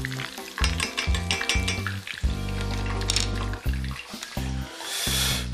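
Meat fries in a hot pan, sizzling loudly and close up, with bursts of crackle as the pieces are stirred and turned. The sizzle rises and falls and no one talks.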